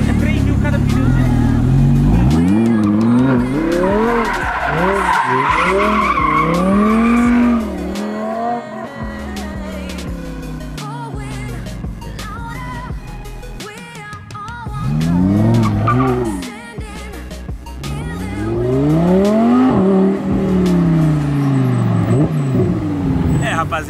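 An Audi R8 spins donuts, its engine revving hard in long sweeping rises and falls while the tires squeal and skid loudly, close by, with people talking over it.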